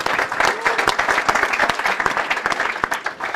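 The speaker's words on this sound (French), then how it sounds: "bravo, on peut l'applaudir" Audience applause for a third-prize winner at an awards finale, loud dense clapping right up close and lasting throughout, with a voice briefly heard over it.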